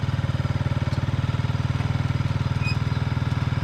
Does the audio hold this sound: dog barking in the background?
no